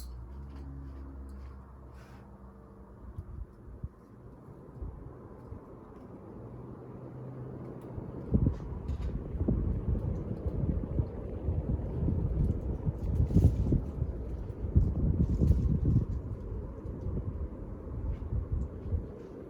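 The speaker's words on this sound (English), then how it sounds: "let's go ahead and test this fan on all the speeds. Here's spin up to high." A Casablanca Panama ceiling fan with cane blades spins up to high speed, a low hum building into a steady, louder whooshing rumble up close, with a few faint clicks and no talking.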